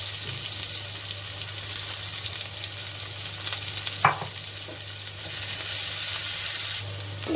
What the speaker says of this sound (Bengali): এখন আমি একটু পেঁয়াজটা দিয়ে দিচ্ছি